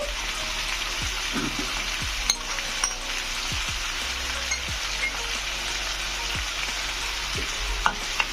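Garlic sizzling and frying in a pan alongside chicken and potatoes, a steady bright crackle with periodic scrapes and stirs of a utensil, close and alone without talk.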